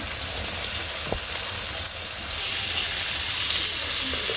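Fish frying in a pan during Bangladeshi village cooking, a steady broad sizzling hiss throughout with a brief faint clink partway through.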